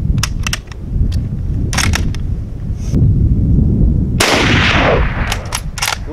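A Czechoslovak vz24 Mauser bolt-action rifle firing Romanian ammunition outdoors, with several sharp cracks and one loud, long-ringing report late in the clip, close and with no talk.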